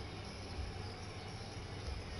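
Train in the video game GTA 5, a low steady rumble of rolling rail cars with faint thumps, fairly quiet and continuous, with no talking over it.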